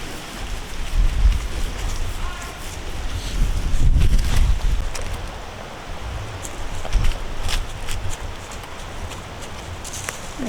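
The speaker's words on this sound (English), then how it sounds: "Rainy." Rain falls steadily on a homestead farm, a continuous broadband hiss with scattered drops and occasional knocks and thumps, fairly close and moderately loud.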